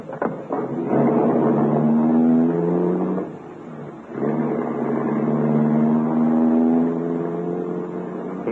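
Car driving steadily as a radio drama sound effect, a loud continuous engine drone with a brief dip in the middle before the motor resumes, no voices.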